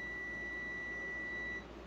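A single steady electronic beep from a multimeter continuity test holds for about a second and a half, then cuts off, leaving a faint hum.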